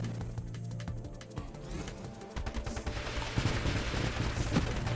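An automatic turret in the space shooter Nova Drift fires rapid streams of clicky shots in a fast stuttering rhythm, thickening into a busier barrage of blasts and impacts in the second half.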